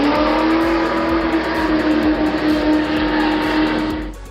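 A custom monster trike motorcycle accelerates hard with a loud, steady engine roar at close range that sustains for several seconds and then drops away abruptly.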